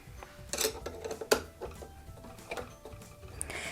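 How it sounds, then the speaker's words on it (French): A serger (overlock sewing machine) has its presser foot unscrewed, with close, small metallic clicks, taps and scrapes scattered across the moment, including one sharp click near the middle, over faint background noise. "on va pouvoir dévisser le pied"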